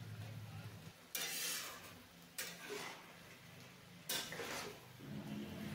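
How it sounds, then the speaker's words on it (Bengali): Potato, eggplant and tomato with dried prawns sauté in a pan, a steady sizzle broken by three loud bursts of stirring scrapes, close and with no voices. "সবজিগুলো ভালো করে কষিয়ে নিচ্ছি"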